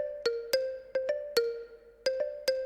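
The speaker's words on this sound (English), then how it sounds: "there was a marimba that actually played in this song" Marimba pattern from an FL Studio instrumental breakdown of a track: bright struck mallet notes in a bouncy syncopated rhythm, about nine hits, clear and alone.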